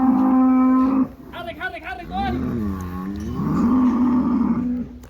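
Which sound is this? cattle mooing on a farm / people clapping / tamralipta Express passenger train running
cattle mooing on a farm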